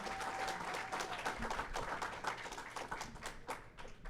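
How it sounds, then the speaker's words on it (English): A conference audience applauds with a dense, continuous patter of clapping at fairly close range, holding steady throughout with slight swells and dips. "Give them guys a round of applause."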